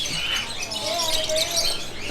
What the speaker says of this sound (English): I think they're parakeets, and maybe, is it a paradise bird, something like that?